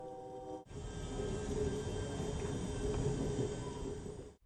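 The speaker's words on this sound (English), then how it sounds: "Now we're moving away from the train station." The Sunset Limited passenger train pulls away from a station, giving a steady, fairly loud rolling rumble of wheels and cars that holds for several seconds.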